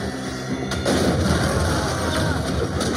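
Volley of gunfire from a firing squad in the film RRR, a dense, loud burst of shots and booms filling the whole moment, with a sharper crack standing out midway.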